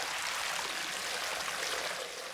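Millions of gallons of water burst from a hillside tank through opened sluice gates at a Roman gold mine, a loud continuous roaring rush of broadband torrent noise that holds steady throughout.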